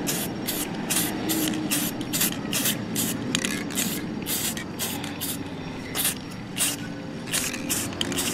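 Short hissing bursts of spray paint coat cosplay Skyrim armor shoulder pieces, a rapid series of about twenty puffs in an uneven rhythm, close and loud with no talking.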